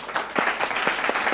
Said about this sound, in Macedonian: аплауз за Катица